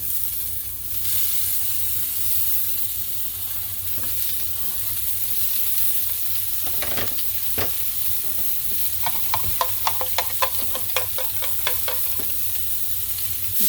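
Pork meatballs fry in rendered pork grease in a pan, a steady close sizzle with bursts of scraping and clicking from stirring toward the end.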